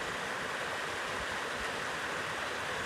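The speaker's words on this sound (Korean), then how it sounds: "요란하지 않은 물소리가 들리고 예쁘다." A mountain stream flows beside a forest road, its gentle, steady rush of water soft and continuous with no voices.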